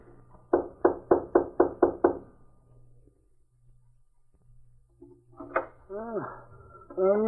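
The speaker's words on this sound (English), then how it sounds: "I'll knock." Seven quick, evenly spaced knocks rap on a cabin door, close and sharp, then a pause and a voice calling out over a faint low hum.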